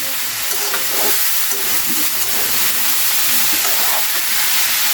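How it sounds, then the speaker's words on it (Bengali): Onion and chili stirred in a frying pan, a steady close sizzle with scraping spoon strokes throughout, no talking. "এটা এবার আমি নাড়িয়ে নিচ্ছি ভালো করে নাড়াতে হবে যাতে পেঁয়াজ লঙ্কাটা সব জায়গায় যায়"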